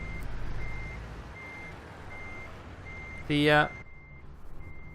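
Reversing beeps from a truck backing into a parking spot in American Truck Simulator, regularly spaced tones over a low engine rumble, with a short burst of loud hiss like an air brake near the end and a brief spoken word.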